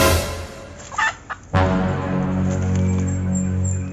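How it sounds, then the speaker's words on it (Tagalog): A wild hen caught in a trap calls and flutters close by, giving a few sharp bursts followed by a sustained, loud, raspy fowl sound. "Inahin yung nahuli sa ating pataker."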